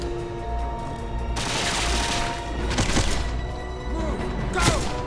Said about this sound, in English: We're taking enemy fire!